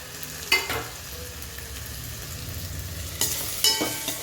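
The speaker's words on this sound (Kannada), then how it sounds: "ಸ್ವಲ್ಪ ಟೊಮೊಟೊ ಫ್ರೈ ಆದಮೇಲೆ ಕ್ಯಾಪ್ಸಿಕಮ್ ಹಾಕಿ." Tomato and capsicum frying in a pan give a steady low sizzle, with a few sharp stirring scrapes near the start and again toward the end, close and with no talk.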